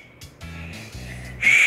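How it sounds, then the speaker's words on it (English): A toy train whistle blown weakly and unevenly, giving a few thin breathy toots with a low hum underneath, ending in a louder, sharper, steadier whistle tone at close range. "This is a train whistle."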